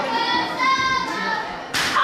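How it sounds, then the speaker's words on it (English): A chop to the chest in a women's professional wrestling match at Rogue Women Warriors lands as sharp, slapping impacts over excited crowd voices, with one smack midway and another near the end. "Oh, the sickening thud of that chop to the chest."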